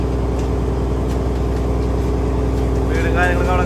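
Engine of a deep-sea fishing boat running at sea, a loud, steady low drone with constant rumble filling the whole span, with a faint higher whine near the end and no clear talking.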